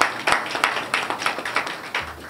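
An audience at a political conference debate in Senegal claps, a scattered ripple of separate handclaps rather than a full ovation, moderately close and fading slightly toward the end.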